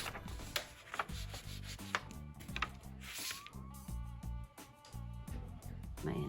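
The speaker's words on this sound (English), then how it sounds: "And then I'm going to close it and rub it." Folded paper with wet paint on it being rubbed by hand to make a symmetric beetle print, steady close scraping and rubbing strokes under faint music.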